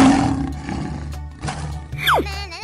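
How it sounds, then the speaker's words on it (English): A single lion roar sounds in the second half, a loud falling growl following a quieter stretch of low background sound. "Lion."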